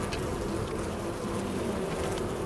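Swarm of thrown bees buzzing in the game Far Cry Primal, a steady dense insect drone holding for the whole stretch with no talk over it.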